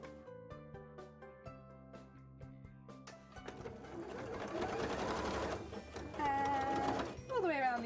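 A sewing machine runs a wide zigzag stitch, with close rhythmic mechanical clatter that speeds into a steady whir, and a voice is heard toward the end.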